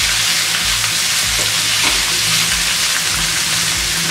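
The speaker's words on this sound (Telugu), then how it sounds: "అలాగే టమాటోస్, ఇవన్నీ వేసి ఒకసారి కలుపుకోవాలి." Onions, green chillies and tomatoes fry in a pan for an egg masala curry, giving a loud, steady sizzle throughout with faint stirring underneath and no talking.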